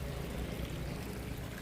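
Water flows in a strong, continuous rushing stream, steady and close, with no voices over it.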